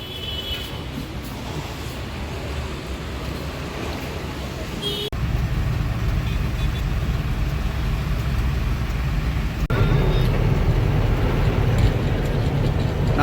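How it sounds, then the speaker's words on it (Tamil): Steady road traffic rumble heard from inside a truck on a ring road near Baroda, with a constant low engine and road drone that grows louder partway through, plus brief faint horn-like tones near and far. "Full traffic."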